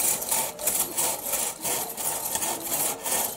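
A hand saw cuts through wood in steady, rhythmic back-and-forth strokes, close and continuous, each pass a raspy grinding rub with no talk over it.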